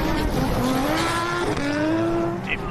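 A Nissan Silvia rally car drives flat out in one gear on a stage at the Otago Rally, its engine note climbing steadily and loudly with a high, strained rasp.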